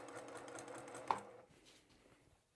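Sewing machine stitching layered quilting-cotton fabric around a corner while making a stuffed bear, running in a steady buzzing stream for about a second and a half, with one sharp click, then slowing and fading to quiet.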